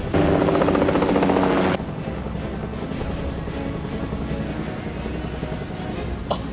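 Helicopter hovering low over water: loud, steady rotor chop that abruptly cuts down to a softer, continuous roar of wind and rushing water with a few faint bumps.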